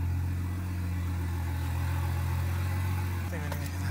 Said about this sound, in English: When you put it in park, idle's quite high.